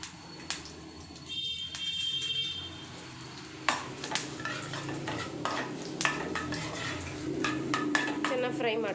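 Curry leaves and dry red chillies fry in a pan for Andhra-style tomato chutney, a soft sizzle under clinking spoon-against-pan stirring, with a voice talking over it.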